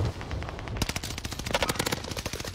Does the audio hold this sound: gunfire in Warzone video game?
yes